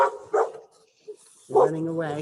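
A pet dog barks twice in quick short yips, fairly close, while a voice talks over and after it in a meeting setting.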